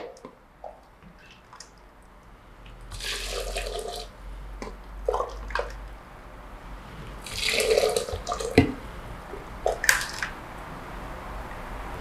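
Boiling water at 100 °C, about 2.3 litres, poured onto oolong tea for jasmine oolong milk tea, with splashing bursts of pouring and sloshing separated by quieter gaps, moderately close and without talk.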